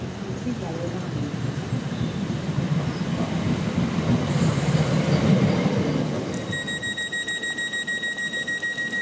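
A Southern passenger train rumbles and clatters into a South London station platform close by. After it eases, steady high electronic tones ring out.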